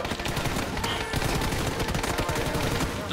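Automatic gunfire in PUBG, a dense, continuous burst of rapid shots with faint background sound throughout.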